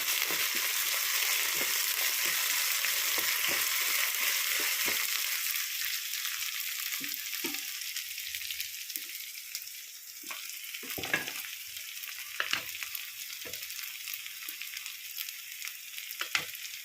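Potato pieces coated with salt, chili powder, turmeric and oil fry in a pan for an aloo curry, a steady broadband sizzle with scattered stirring clicks and scrapes, fading slightly in intensity partway through, with no voices.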